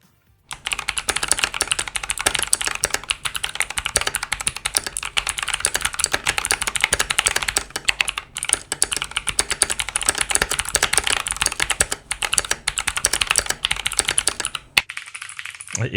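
Rapid, continuous clicking of a loud, clicky mechanical keyboard in a gaming setup, dense keystrokes close to the microphone for about fifteen seconds, stopping briefly near the end.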